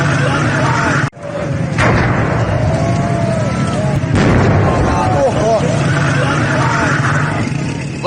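Gas cylinders in a burning LPG workshop in Shiraz go off in heavy booming blasts, one sharp detonation followed by a sustained roar and rumble, with voices and crowd noise underneath.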